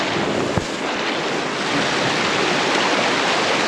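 A clear, cold river flowing along an off-road trail near Big Falls, giving steady broadband rushing water with one brief thump near the start, continuous and fairly close.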